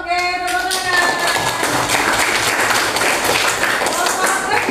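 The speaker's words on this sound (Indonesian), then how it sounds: "Oke, tepuk tangan." A primary-school classroom breaks into group applause for a student team, with dense, fast hand claps filling most of the stretch after a teacher's brief spoken cue.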